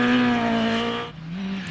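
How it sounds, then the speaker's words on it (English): A historic Ford Escort RS 1800 rally car on a rally stage in Otago, its engine holding a loud, sustained high-revving note that drops in pitch near the end, close and alone. "Dean Buist was the early leader in the revived historic class in his Ford Escort RS 1800."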